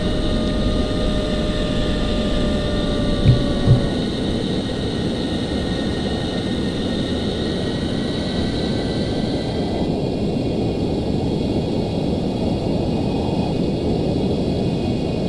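Steady, loud broadband roar of an F-14 jet's engines throttled back to idle on a slow landing approach in a flight simulator, a continuous whooshing drone with faint whining tones and a couple of brief clicks, no talking.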